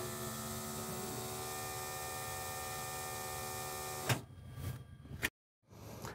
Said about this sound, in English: that little silver button is used to turn on the fuel pump